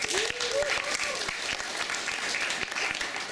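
Steady audience applause greets a comedian at a college comedy show, a dense wash of clapping across the whole stretch, with a few voices calling out briefly under it.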